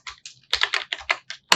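Keys clatter on a computer keyboard in quick bursts of clicks, then a pause, then another burst and a final sharp tap, close and fairly loud with no voices.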